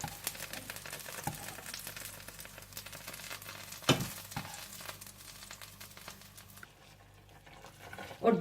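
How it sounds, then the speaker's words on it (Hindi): Eggplant slices frying in a pan for baingan borani, a steady crackling sizzle with scattered pops and a couple of sharper clatters, fading quieter near the end before a final clunk. "ये बैंगन अच्छे से फ्राई हो चुके हैं"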